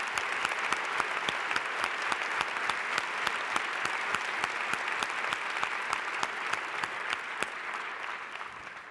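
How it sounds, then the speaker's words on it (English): A round of audience applause for presenters at a panel discussion on the role of white leaders in equality, dense steady clapping from a mid-sized crowd that holds for the full length and tapers slightly at the end. "Please join me in giving them a round of applause again."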